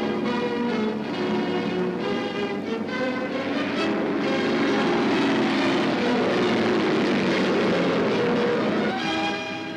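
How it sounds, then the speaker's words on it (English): A four-engined Douglas propeller airliner on an early American transatlantic land-plane passenger flight drones loudly and steadily, a dense engine roar that swells slightly and holds throughout. "flying a 4-engined Douglas aircraft"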